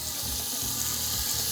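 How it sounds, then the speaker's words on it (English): Sirloin beef sizzles as it browns in an oiled pan for a Tex-Mex carne guisada, a loud, close, continuous frying crackle with no voices. "you can hear that sizzle, and that's a good sound"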